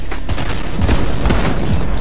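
Gunfire in the video game Fortnite crackles in dense, rapid loud bursts that keep up steadily throughout.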